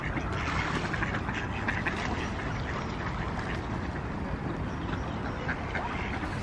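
Several ducks keep quacking near the water's edge in a park, a continuous jumble of calls over constant ambient noise, with no voices.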